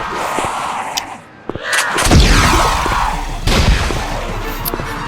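Shotgun blasts in a solo extraction video game, a few heavy booming shots with rumbling crashes between them, loud and close over continuous game noise.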